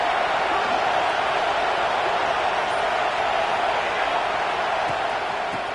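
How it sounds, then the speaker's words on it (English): Steady, dense roar of a stadium crowd in a Madden/NCAA football video game, continuous and loud with no breaks, a broad wash of massed voices throughout. "This crowd ready to make its presence known."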